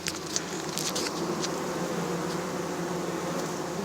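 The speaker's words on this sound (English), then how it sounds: "It's jam-packed full of bees" Dense, steady buzzing of honey bees packed inside a nuc hive, close and continuous, with a few soft taps over the drone.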